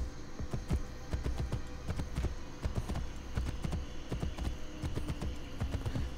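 Steady rhythmic hoofbeats of a horse in the video game Assassin's Creed Brotherhood, a continuous clip-clop over a low hum, even and moderately loud throughout.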